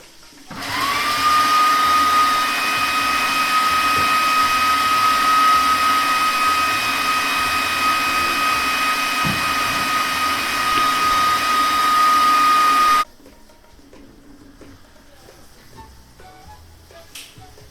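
A blender whirs steadily through pesto of parsley, Parmesan and four garlic cloves, a loud, even motor drone with a high whine that runs for about twelve seconds and then cuts off, leaving quiet room sound.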